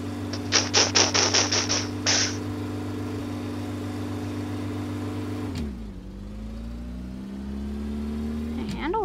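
A car cruises with a steady engine hum from inside the cabin, a brief burst of rapid rubbing clicks early on, then a shift in engine pitch as it slows and picks up speed again.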